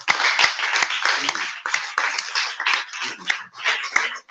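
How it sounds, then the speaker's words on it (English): Students in a school mentorship programme clap together in an uneven, bursty rhythm, loud and near, with a few voices mixed in among the hand claps. "I don't want us to clap like this."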